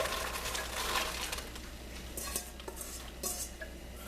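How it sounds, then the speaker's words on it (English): Vegetables with whole garlic sauteing in oil in a pan for beef stew, a soft broad sizzle with intermittent clinks of a utensil stirring against the pot. "over here I'm going to saute the vegetables"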